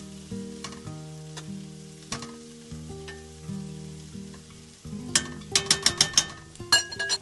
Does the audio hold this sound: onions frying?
yes